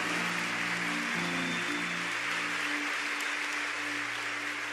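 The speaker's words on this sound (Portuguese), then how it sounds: "Pode aplaudir, querido. É festa, é festa." A church congregation applauding at a festive moment, dense continuous clapping like steady rain, with a low sustained organ or keyboard tone underneath and no speech.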